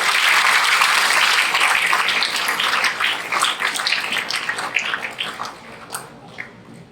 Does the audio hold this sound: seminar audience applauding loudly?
yes